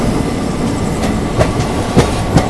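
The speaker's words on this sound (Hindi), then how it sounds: "अब पूर्वा एक्सप्रेस आ चुकी है भाई इस साइड में।" The Poorva Express passes close alongside on a parallel track, a loud steady rolling roar with sharp clickety-clack wheel beats over rail joints.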